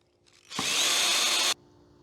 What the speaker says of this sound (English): Let's drill a little pilot hole.